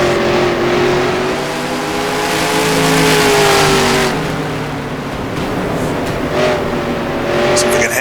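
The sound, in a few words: 1960s NASCAR truck engine racing in NR2003 video game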